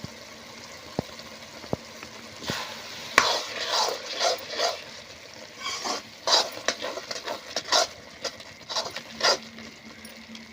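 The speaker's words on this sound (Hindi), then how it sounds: "अब अच्छा से भुजान दे संगवारी हो तेल के छूटा ला।" Fish masala with turmeric, chili, cumin and coriander powder being stirred and fried in oil in a pan, a steady sizzle under irregular scraping and stirring taps, close and fairly quiet.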